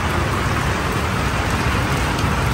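Heavy rain pours down outside a teardrop camper at a Florida state park campground, a dense, steady hiss of drops drumming on surfaces with no pauses and no voices.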